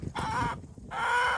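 Chickens clucking close by in snowy winter weather, two short bursts of hen calls separated by a brief pause, with no talk.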